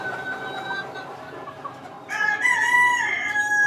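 Four-month-old Boston Roundhead cockerel crowing close by, following soft clucking and farmyard murmurs, the crow rising loud and drawn out in the second half.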